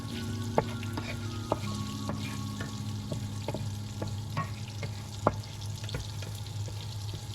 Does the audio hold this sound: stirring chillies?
yes